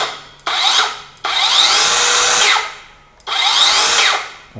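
An OSUKA OCS827 cordless circular saw whines loudly in three bursts, spinning up and biting through material, with brief pauses between the cuts.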